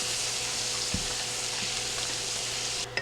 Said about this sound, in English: Now we're just going to mix this together until it's all nice and smooth